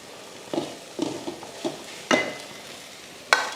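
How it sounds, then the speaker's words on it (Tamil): Cooked rice being stirred into a pan for a South Indian variety rice, with a few soft scraping strokes and a faint sizzle, spaced out and fairly quiet. "இதில் சாதம் போட்டு கிளறிக்கலாம்."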